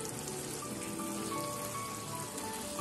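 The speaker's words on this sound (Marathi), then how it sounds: "चिकन छान आपल्याला परतून घ्यायचं आहे।" Marinated chicken coated in a fine ground paste, sautéed in a pan for restaurant-style chicken angara, giving a steady, close crackling sizzle that holds evenly throughout without any talk.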